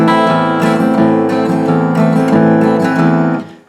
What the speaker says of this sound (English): it helps you control those bass notes rather than just let them ring out like